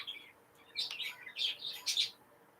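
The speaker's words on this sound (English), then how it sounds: "my birds were very quiet before I did this. But anyway, they're not quiet now." Pet birds indoors give bright, high chirps and tweets in a few quick bursts, close and fairly clear over a quiet room.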